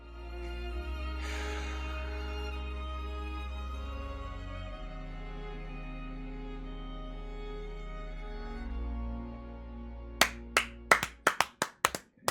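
Sustained, low, swelling film-score music plays for most of the stretch, then about eight sharp hand claps ring out quickly near the end, close and loud.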